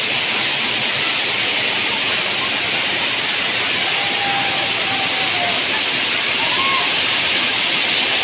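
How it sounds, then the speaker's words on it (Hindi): Ghatarani waterfall near Jatmai temple pours in a loud, constant roaring rush of water that fills the whole scene without pause, with a faint voice briefly audible beneath it. "देखो पानी"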